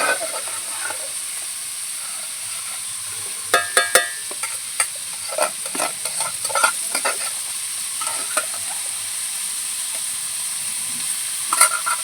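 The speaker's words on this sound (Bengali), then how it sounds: "চালটাকে মশলার সঙ্গে সব কিছু ভালো করে মিশিয়ে নিয়েছি" Rice stirred with spices in a hot pan for biryani gives a steady sizzling hiss with scattered scraping and clinking strokes of a spoon, close and continuous, without talk.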